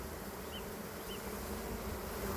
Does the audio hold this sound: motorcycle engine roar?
no